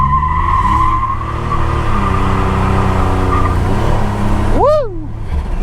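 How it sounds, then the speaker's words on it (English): A 1987 Buick Turbo T held on a brake-boost launch, its engine droning loud and close, then a rising, sweeping whine as the tires break loose near the end. "I didn't think the tires are gonna break loose like that."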